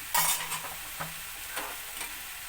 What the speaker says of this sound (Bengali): এবার এটাকে আমি ভালো করে নেড়ে চেড়ে মিশিয়ে দিচ্ছি